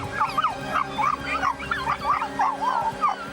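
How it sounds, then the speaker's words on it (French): Several cartoon dogs yip and whine in quick, overlapping bursts, high-pitched and fairly close, more excited yelping than deep barking. "Mais regarde Zik, ils aboient là en bas."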